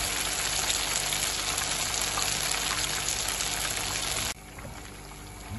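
Fish fingers frying in hot oil in a kadhai over a medium flame, a steady dense crackle that stays loud and even and then drops sharply to a quieter sizzle near the end, with no talking.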